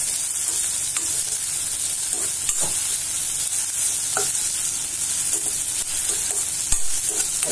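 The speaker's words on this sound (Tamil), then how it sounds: "நல்லா வதக்கிக்கணும்." Paneer and capsicum gravy being sautéed and stirred in a pan, with a steady close sizzle and scattered stirring scrapes running throughout, no talking.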